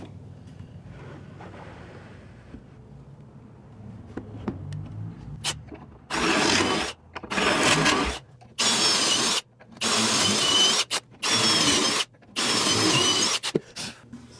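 A power drill bores pocket holes into plywood in six loud, close bursts of whirring noise separated by short gaps, following a few seconds of quieter handling sounds.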